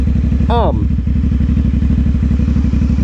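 A CFMoto 450SS motorcycle idles and rolls slowly around a parking lot, its steady pulsing engine close and loud throughout, with a brief voice cutting in near the start.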